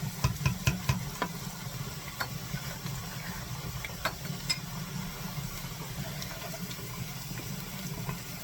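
Onion cooks in bacon grease in a soup pot over medium heat, a soft steady sizzle with light stirring taps and clinks, close but quiet, with no talking.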